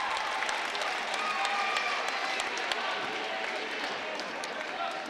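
Crowd noise fills a high school boys basketball gym during Wausau East at Wausau West after a made free throw, a steady wash of scattered clapping and murmur that holds fairly even throughout.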